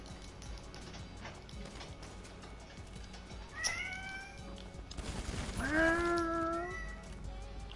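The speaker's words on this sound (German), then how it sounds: "Ja, glaube, das ist meine Katze." A cat meows twice: a short meow near the middle and then a longer, louder, drawn-out one, heard over a faint background hum.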